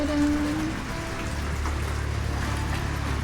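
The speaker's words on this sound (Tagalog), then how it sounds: "Kahit ngayon umuulan talaga." Steady rain pours down in a dense, continuous hiss in Bailen, Cavite, with a brief faint tone near the start.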